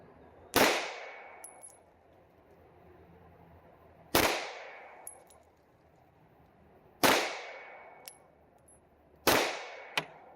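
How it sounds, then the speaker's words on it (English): Four sharp pistol shots from a Rock Island STK 100 ring out at a range, spaced a few seconds apart, each crack followed by a brief decaying ring as the rounds strike steel targets, with no talking. "we'll back up and I'll shoot some steel"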